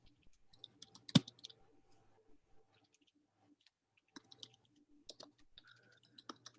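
Typing on a computer keyboard in short, sparse clusters of light clicks with one sharper tap, separated by quiet pauses. The sound is faint and close-sounding.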